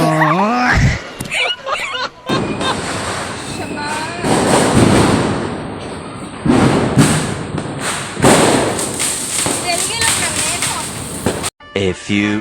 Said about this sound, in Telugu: సరే బాంబులు కాల్చుకున్నాం రండి.